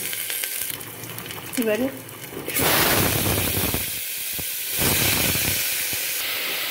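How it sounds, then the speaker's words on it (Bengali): Panch phoron spices, green chili and crushed ginger sizzling in hot oil, a loud, steady frying hiss that swells as the ingredients go in and keeps sizzling, with a brief word spoken over it. "5 ফোড়ন আর কাঁচা লঙ্কা ফোড়ন দিলাম, একটু আদা থেতো করে দিলাম"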